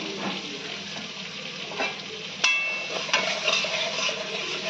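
A ground paste of ginger, green chili and cumin fries in hot oil, sizzling steadily up close while a spoon stirs and scrapes through it, with a few sharper clinks along the way.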